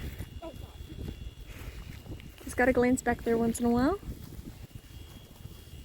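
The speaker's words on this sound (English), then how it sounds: "It's super windy, so I'm hoping that doesn't affect what you can hear in the recording." Gusty wind buffets the microphone throughout outdoors at night, a low rumbling roar, while a person speaks briefly in the middle.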